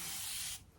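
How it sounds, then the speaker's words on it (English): A water spray bottle mists hair in one short, close, breathy hiss lasting about half a second, then cuts off into quiet. "I'm just going to spray it down with a little bit of water spray"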